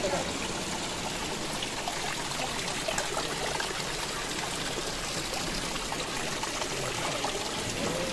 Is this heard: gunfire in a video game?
no